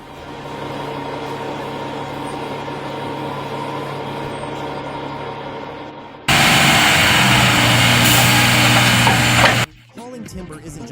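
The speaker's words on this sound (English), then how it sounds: "Stacked high with fir timber, the engine growls with confidence" A logging truck stacked high with fir timber growls steadily, loud and close, with a sudden burst of harsher roaring noise partway through before it drops back.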